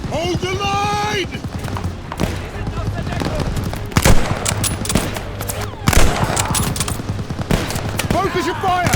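Call of Duty Vanguard battle with machine gun fire rattling in steady rapid bursts, heavy impacts and thuds mixed in, while soldiers shout over the constant loud din.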